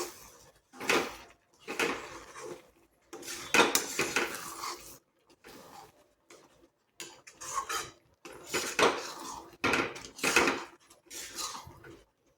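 A spoon stirring and scraping a pan of Gujarati corn chhundo cooked in ghee, with repeated clinking and scraping strokes in irregular bursts separated by short pauses, close and fairly quiet.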